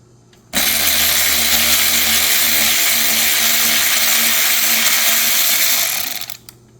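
A power tool runs nonstop for nearly six seconds while removing lock nuts on a 2012 Cadillac SRX passenger airbag module, a loud close whine that stops abruptly, followed by a few faint clicks.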